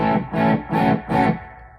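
An electric guitar runs through an overdrive pedal, four distorted strummed chords in a steady rhythm, loud and close, the last one ringing out and fading.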